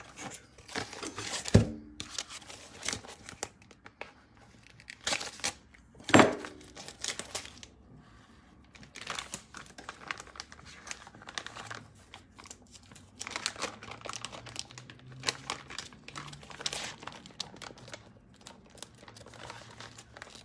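Bacon packaging is cut open and handled, producing irregular crinkling and plastic rustles with a couple of sharp tearing snaps, close and fairly quiet, with no talking.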